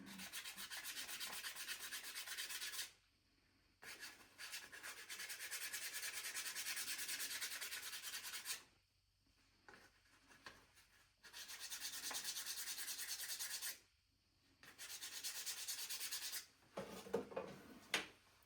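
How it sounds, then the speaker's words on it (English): A pastel stick being sanded down, soft scratchy rubbing strokes running in several sustained bursts separated by short pauses, quiet and close with no speech. "So again, I'm gonna sand this one down a little bit before I use it."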